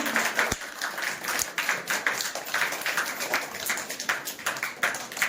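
Steady applause from a crowd at a retirement party, dense clapping that holds through the whole stretch with slight swells.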